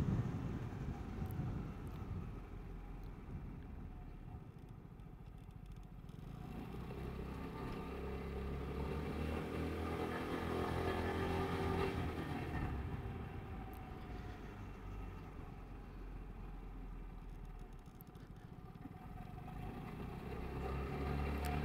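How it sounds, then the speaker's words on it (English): Wind roars and buffets across a helmet-mounted microphone while riding a Vespa GTS 300 Super Sport scooter, a steady, heavy rush that swells and eases with engine drone beneath, no speech. "See how much wind there is,"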